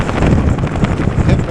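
Strong gusty wind buffets the microphone while riding a Wooken e-bike outdoors in bad weather, a loud continuous low rumble swelling and easing with each gust.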